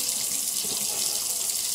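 Hot tap water runs into a hummingbird feeder bottle that holds organic cane sugar. It makes a loud, steady, close-up rush of flowing water with no talk over it.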